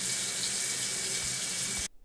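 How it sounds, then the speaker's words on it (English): Hot water runs from a sink tap in a steady, loud, broad rushing stream with no talking, then cuts off abruptly near the end. "Turn on the hot water."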